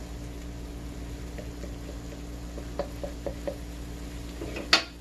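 A wooden spoon stirs food in a wok, making a few soft scraping taps followed by a louder clatter near the end over a low background hum.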